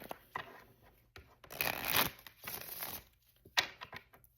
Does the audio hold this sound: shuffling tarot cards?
yes